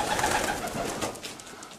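A racing pigeon, a heavyweight marathon flier, coos in soft repeated low phrases, close by and alone with no talk.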